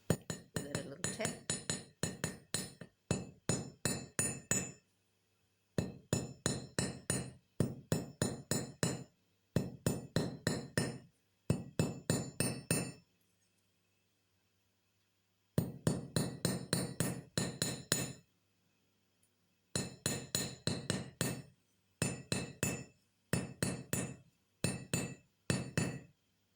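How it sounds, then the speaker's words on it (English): A hammer strikes a copper wire cuff bracelet in rapid bursts of sharp, ringing metallic taps, close and clear, with short silent gaps between each run. "I'm going to basically give it a whack where the two wires join on each side there."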